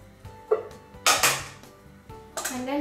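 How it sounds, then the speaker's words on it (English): Penne pasta tossed with carbonara sauce in a pan, producing a few distinct metallic clanks and scrapes of a utensil against cookware, close and moderately loud. "And then you just simply mix it."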